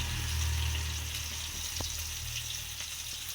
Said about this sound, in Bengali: তো কই মাছটা আমি ভেজে নিচ্ছি